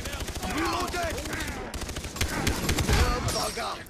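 Rapid gunfire in the Far Cry 3 video game, dense continuous bursts close up with a voice talking over the shooting throughout.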